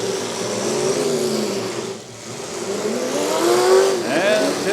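Worn-out demolition derby cars rev hard at a Portage County derby, with engines roaring and surging and tires squealing at moderate distance. The roar dips briefly before building again, and an announcer talks over it.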